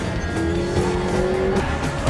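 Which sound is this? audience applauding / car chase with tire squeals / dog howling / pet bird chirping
car chase with tire squeals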